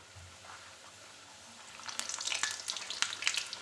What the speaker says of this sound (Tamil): நல்லா எண்ணெய் காய விட்டு போட்டு எடுத்துடணும் நம்ம பூரியை.